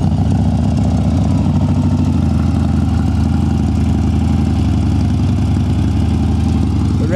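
A Harley-Davidson Dyna Street Bob FXDB motorcycle with 2,466 miles idles steadily and loudly up close, its deep, even V-twin throb continuing unbroken with no voices over it.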